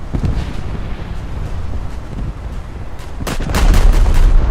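Heavy naval guns of a battleship in World of Warships rumble under a constant roar of wind and sea, with a louder booming salvo near the end.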